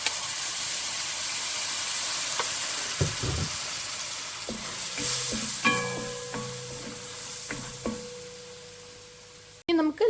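Beef pickle in a hot pan sizzling and hissing as distilled vinegar goes in, a steady crackling fry with a few clinks and knocks, fairly quiet and close, no speech.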